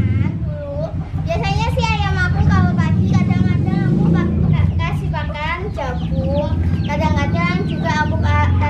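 Backyard chickens cluck and call repeatedly in the morning while being fed corn, close by and fairly loud, with people talking over them almost throughout.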